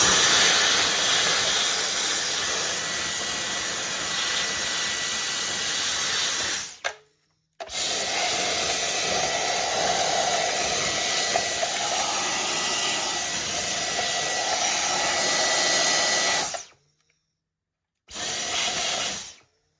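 Inside of a Roomba self-emptying base being vacuumed: a loud, continuous vacuum cleaner roar with shifting pitch as the nozzle moves, cutting out abruptly twice for short silent gaps before starting again.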